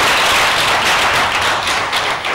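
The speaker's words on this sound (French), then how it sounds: "on applaudit très très très fort" A studio audience at a French television variety show applauds loudly, a dense, continuous wash of clapping that fills the whole stretch without pause.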